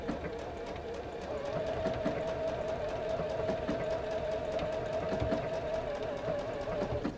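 Sewing machine stitching a blanket stitch, a steady close mechanical hum with fast regular ticking of the needle running continuously throughout.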